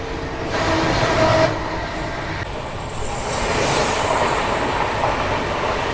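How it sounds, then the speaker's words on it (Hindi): The Gol Gumbaz Express passing alongside on the adjacent track makes a loud continuous rumble with rattling wheels and rushing air, heard from inside a moving train coach. "बगल से क्रॉस हो रही है गोल गुम्बाज एक्सप्रेस।"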